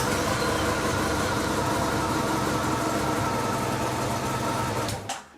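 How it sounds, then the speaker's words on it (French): A Honda VFR 1200 motorcycle with a freshly replaced battery runs at a steady, loud idle close up, its even rumble holding for about five seconds before cutting off abruptly at the end. "on va faire un test, voir si la moto démarre"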